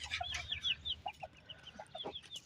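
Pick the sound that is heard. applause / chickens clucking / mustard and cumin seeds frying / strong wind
chickens clucking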